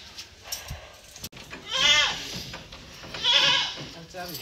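Goats bleat loudly nearby in a village, two drawn-out wavering cries after some shuffling and a sharp knock.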